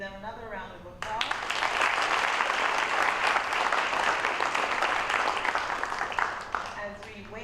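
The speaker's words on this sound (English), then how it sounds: "Give them another round of applause." At an awards ceremony, an audience bursts into applause after a brief moment of talk, the clapping swelling quickly and holding strong and steady before tapering at the end.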